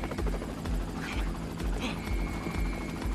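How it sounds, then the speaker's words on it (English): A helicopter arrives in a video game, its steady rotor chop thudding in a low rhythmic pulse throughout, close and continuous, with a faint high tone entering partway through. "We've called in the chopper."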